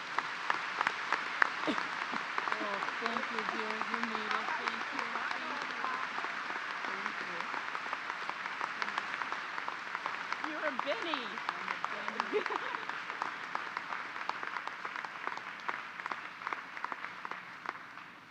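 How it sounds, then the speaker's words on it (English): Sustained audience applause at a college commencement ceremony, an even wash of many hands clapping for about eighteen seconds at moderate distance, with faint voices murmuring underneath. "Please join me in applauding Sister Michaela."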